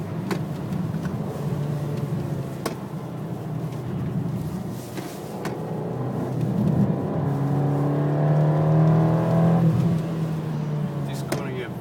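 A race car on a hot lap of the Nürburgring Nordschleife revs through its gears, the engine rising and dropping in pitch with each shift and growing louder in the later part, heard from inside the car.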